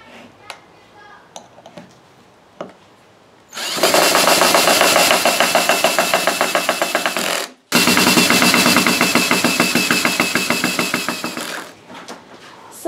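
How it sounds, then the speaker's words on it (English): A power drill drives 1.5-inch screws through pipe flanges into wooden hand blocks for handstand canes, two loud sustained whirring runs of a few seconds each with a brief pause between, after quieter clicks and handling. "then you are going to drill your flanges in"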